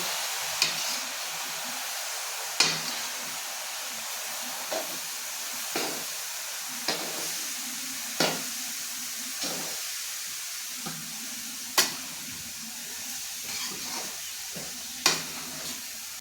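A spoon stirs carrot gajrela cooking in a pan, tapping the metal at steady intervals over a constant, soft sizzle of the simmering mixture, with no voices.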